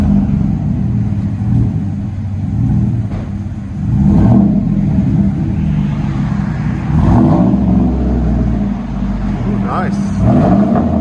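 Deep, rumbling exhaust of a straight-piped 2016 Chevy Silverado 5.3L V8 with dual exhaust, loud and close, surging through several revs over a low idle, with voices talking over it.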